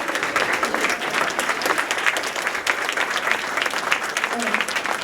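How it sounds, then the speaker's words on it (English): A meeting audience applauds staff members who have been asked to stand, giving steady, close clapping throughout with a few voices mixed in. "And I'd like a round of applause for you guys."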